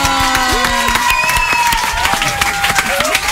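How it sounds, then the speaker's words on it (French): A studio audience applauds a six-year-old guest, with dense, sustained clapping and some crowd noise running under a voice talking over it. "On va l'applaudir"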